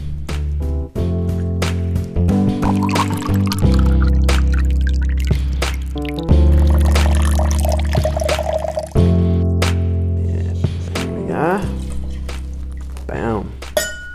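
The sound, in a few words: rye whiskey being poured for an old fashioned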